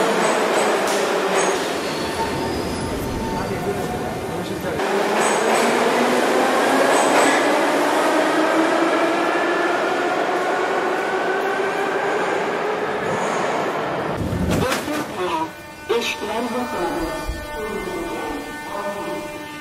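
A subway train rumbles loudly through a metro station in Tashkent, Uzbekistan, a steady roar of wheels with rising squeals and clattering, joined near the end by a sharper burst of rail noise.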